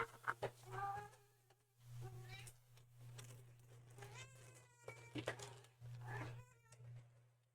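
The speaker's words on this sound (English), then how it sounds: "BRB while I feed my screaming cat." A hungry house cat meows repeatedly in insistent, wavering cries, close to the microphone over a constant low electrical hum.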